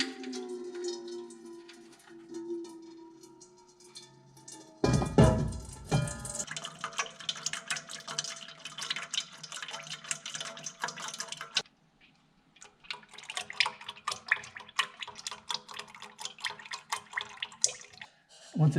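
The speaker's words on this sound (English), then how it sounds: "just pull it out and let the fluid drain out" Transmission fluid drains from the pan of a 1984 Ford F250 4x4 with a C6 transmission, a close trickling and splashing stream with dripping and a few metallic knocks, broken by a brief pause.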